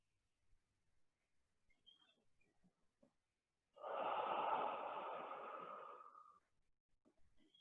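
A single deep, drawn-out breath taken as part of a yoga breathing exercise, audible as a steady airy rush lasting a few seconds between quieter stretches of near silence.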